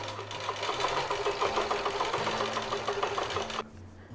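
A Handi Quilter Moxie XL longarm quilting machine runs steadily, stitching with a fast mechanical whir and rapid needle chatter for most of the clip before stopping abruptly near the end.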